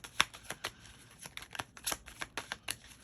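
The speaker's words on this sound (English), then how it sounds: "I shuffled the cards" Tarot cards being shuffled by hand, a run of crisp, close riffling snaps and flicks in an uneven rhythm, fairly faint, with no talking.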